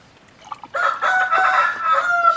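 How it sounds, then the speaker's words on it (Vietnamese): A rooster crows once in a long, loud, close call that holds steady for well over a second, with no talking over it. "Tiếng gà gáy hả?"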